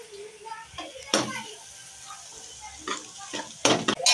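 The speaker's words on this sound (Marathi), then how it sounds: "संतोष लागलाय पनीरची भाजी करायला. लसणाची पेस्ट टाकलेली याच्यामध्ये. जिरे टाकायचे चालू आहेत आता." Cumin seeds and garlic paste frying in a pot for paneer curry, with soft sizzling, stirring and occasional clanks of a utensil against the pan, loud scraping bursts near the end.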